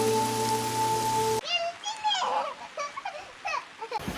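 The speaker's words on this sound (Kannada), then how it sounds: "ಮಳೆ ಶುರುವಾಯ್ತು," Rain falls steadily near a house in the middle of a forest, a close, even patter for over a second before it drops away and voices chat over faint dripping.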